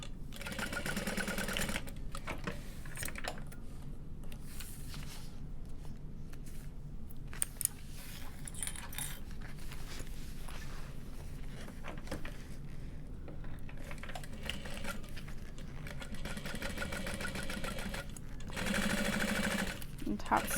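A sewing machine stitches a hobo bag near a zipper in runs of steady, close whirring with brief pauses between them.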